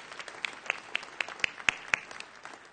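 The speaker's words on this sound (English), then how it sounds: "please, a huge applause for the contributor of Drupal 8" Sparse applause from a conference audience at a Drupal event in Barcelona, a few distinct claps ringing out over a soft hall murmur, thin and moderately distant rather than a full ovation.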